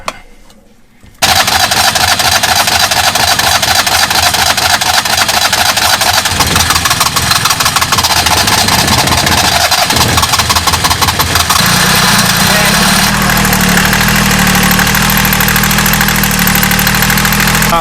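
A sailboat's diesel engine, just bled at the injectors, catches after a moment of quiet and settles into a loud, steady, knocking idle close by, running on without voices.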